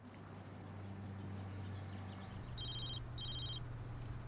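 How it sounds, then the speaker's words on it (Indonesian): Telephone ringing in a quiet bedroom, two short electronic ring bursts coming after a few seconds of low background hum, clear and close. "Dexter dibangunkan oleh suara panggilan telepon dari Debra."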